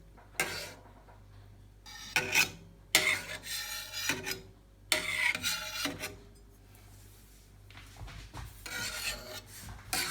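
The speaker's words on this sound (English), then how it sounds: "And finally, diagonally, like so, because you want the curds to be cut into smallish pieces." A knife cutting set cheese curds diagonally into small pieces for homemade halloumi, heard as a series of short scraping strokes against the pot, close and fairly quiet, in irregular bursts with brief pauses between them.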